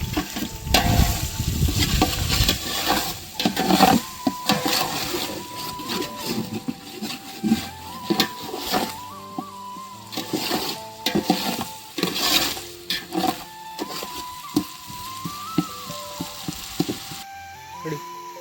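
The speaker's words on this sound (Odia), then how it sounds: "ପିଆଜ ପେଷ୍ଟ ପଡ଼ିଲା, ତେଲ ତାତି ସାରିଲାଣି। ପିଆଜ ପେଷ୍ଟ ପକେଇଦେଇ ବର୍ତ୍ତମାନ ମରା ହେବ।" Onion paste fries in hot oil for chicken biryani, a crackling sizzle broken up by repeated stirring scrapes and the clatter of a spoon against the pot, loudest at the start and then settling into a gentler bubbling fry.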